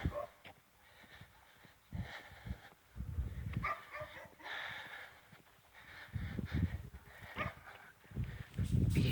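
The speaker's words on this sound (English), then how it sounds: "Every dog barks when you walk past because nobody walks around here" Dogs barking on and off in a quiet small town as someone walks past, mid-distance, mixed with footsteps, outdoor ambience and some voice-like sounds.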